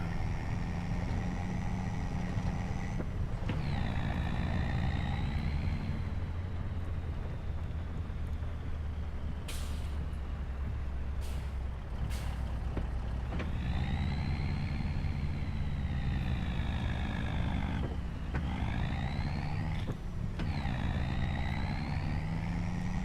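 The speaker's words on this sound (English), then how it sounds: "This truck does sound like a big old truck." A big truck engine in the Farming Simulator 25 video game drones with a deep, steady rumble, its pitch rising and falling in several gear-change sweeps across more than twenty seconds, heard alone without talk.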